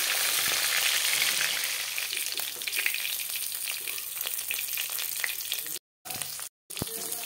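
Fish pieces for a spinach fish curry are lifted from hot frying oil while a strong, even sizzle hisses close by, with a few faint clicks and two brief dropouts.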